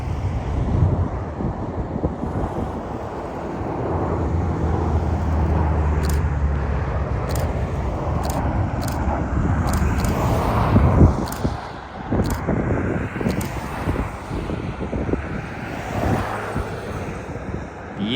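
A United airliner in Continental Globe livery touching down on a snowy winter day, a loud broad roar of engines and wind buffeting heard from the ground, with sharp clicks scattered over it.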